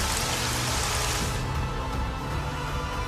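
Heavy rain pours down during a devastating storm in Ecuador, a loud, dense, continuous hiss with no pauses and no voices over it.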